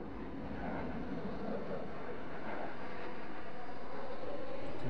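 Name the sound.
aircraft flying overhead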